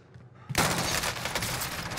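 A sudden loud burst of automatic gunfire in Call of Duty Warzone, with teams shooting from both sides, rapid overlapping shots that keep going after a quiet start.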